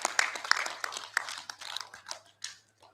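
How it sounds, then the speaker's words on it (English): Graduates at a university graduation ceremony clap in a burst of applause, a dense run of sharp hand claps that thins out and fades toward the end, with no talking over it. "A round of applause for yourself."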